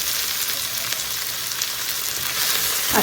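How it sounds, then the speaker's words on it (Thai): Steady, loud sizzling of sliced garlic and shallots frying in hot oil, a continuous crackling hiss heard close up. "ใส่กระเทียมกับหอมแดงซอยค่ะ"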